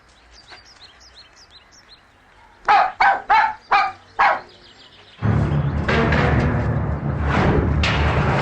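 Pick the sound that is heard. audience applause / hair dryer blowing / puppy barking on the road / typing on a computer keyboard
puppy barking on the road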